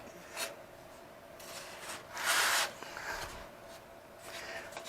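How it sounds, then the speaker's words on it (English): A 1/4-20 bolt is turned into a hole to tap threads, making soft rasping, grinding rubs in short bursts with one longer scrape, close and fairly quiet. "I will tap that with my 1/4 20 bolt"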